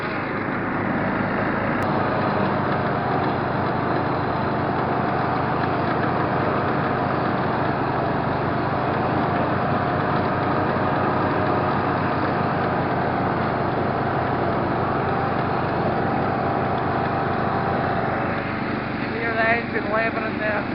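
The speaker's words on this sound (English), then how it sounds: "Engine labouring there." A 1970s Simplicity Regent lawn tractor engine labours in a low gear through thick grass, a steady close droning hum with the mower blades churning beneath, continuous throughout.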